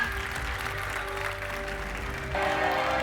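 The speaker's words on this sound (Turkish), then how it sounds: "Alkışlarınızla" Applause at an award ceremony in Istanbul, with steady audience clapping filling the room along with a sustained musical tone, growing slightly louder toward the end.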